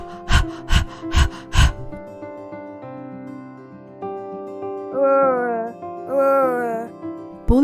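A child imitates panting after running and jumping, four sharp rhythmic breathy pants in quick succession, close and loud, followed by a sustained musical backing with voiced tones.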